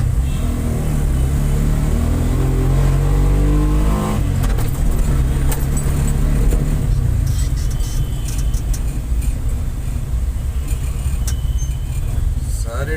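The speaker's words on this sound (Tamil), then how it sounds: "சரி, டிராஃபிக்குங்க." Road traffic on a busy street in Chennai: steady engine rumble of cars and buses with revving vehicles passing close, a constant dense din with voices mixed in beneath.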